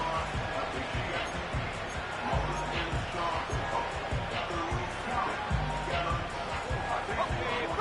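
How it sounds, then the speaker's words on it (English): A stadium crowd roars in an American football video game, a steady loud broadband rumble that goes on throughout. Faint repeated thumps and indistinct background chatter sit within it. "Well, this crowd is making an impact right now."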